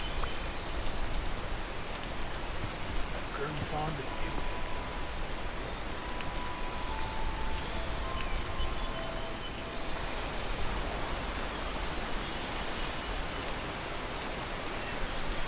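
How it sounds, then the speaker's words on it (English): Rain falls steadily outdoors, a dense and even hiss of drops that holds at a constant level throughout with no voices. "Oh, not when it's raining."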